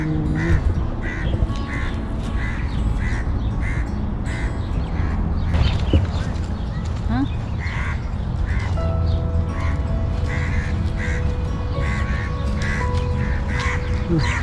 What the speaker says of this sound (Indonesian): Banyak burung gagak, guys. Tuh, gagak semua tuh.